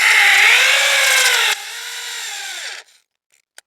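A cordless power drill drives a screw into a wall while a new Airtel DTH box is being installed, whining at high speed, then dropping to a lower pitch before stopping abruptly, loud and close, with no talking.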